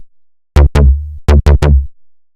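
Retro-style synth patch from Serum with a filter envelope on the cutoff plays five short, bright plucked notes, two then three, each snapping open and quickly darkening, with a low tone briefly holding between groups.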